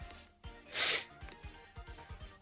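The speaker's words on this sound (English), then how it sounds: "I don't think I'm gonna sneeze anymore" A single short sneeze, a sharp breathy burst in the middle of an otherwise quiet stretch, with soft low thumps around it.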